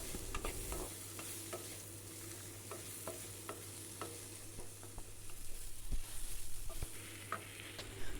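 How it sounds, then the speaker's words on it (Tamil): Tomato and onions sautéing in a pan for radish chutney, a steady low sizzle with repeated sharp scrapes and stirring clicks of a spatula throughout, growing busier toward the end, with no voices. "தக்காளி நல்லா சாஃப்டாக வதங்கி வர அளவுக்கு வதக்கிக்கலாம்."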